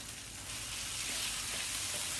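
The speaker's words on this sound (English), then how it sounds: "I'm going to stir fry that." Beef and broccoli stir frying in a pan give a steady, close hiss and sizzle that holds evenly for a couple of seconds, with no voices.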